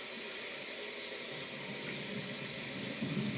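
Tap water pouring steadily into a bag of fired brass cartridge cases for rinsing, a constant close hiss and splash with no pauses or talking.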